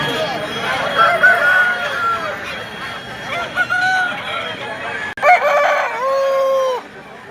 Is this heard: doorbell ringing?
no